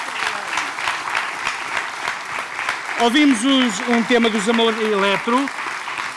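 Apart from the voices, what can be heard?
audience applause for guitarist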